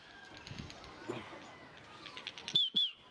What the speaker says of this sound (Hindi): फिलहाल मैं अभी आपको कबूतरों की उड़ान दिखाता हूँ आज